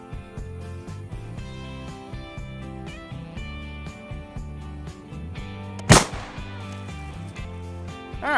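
A single sharp rifle gunshot cracks once, loud and close, at an outdoor range, set over steady background music.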